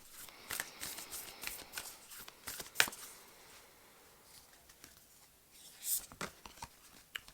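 A deck of oracle cards being shuffled by hand, a run of quick riffling bursts and soft flicks with short pauses between, close and fairly quiet, with little else around.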